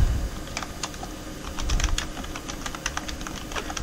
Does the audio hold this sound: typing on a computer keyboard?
yes